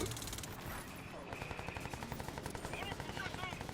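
Rapid automatic gunfire from a weapon in the shooter game Crysis 3 Remastered rattles in a steady burst, loud and continuous through most of the stretch, with dense game sounds and music underneath.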